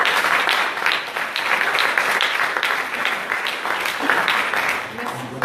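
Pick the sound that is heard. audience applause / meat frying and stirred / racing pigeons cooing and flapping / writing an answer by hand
audience applause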